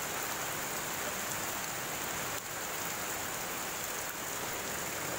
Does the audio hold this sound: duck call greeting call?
no